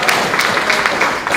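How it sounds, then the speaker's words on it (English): Audience applause fills a Democratic club meeting room in The Villages, Florida: a dense, steady wash of many hands clapping, close and fairly loud, lasting only a moment. "give yourselves a round of applause"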